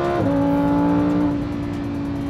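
Lamborghini Huracán EVO engine accelerating, a loud, close roar that drops sharply in pitch at the start and then holds steady before easing slightly toward the end.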